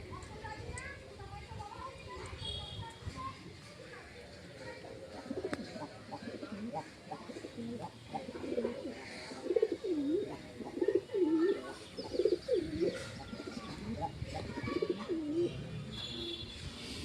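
Pet pigeons cooing close by in a loft, a run of soft repeated coos rising through the middle and later stretches, while a person talks over them.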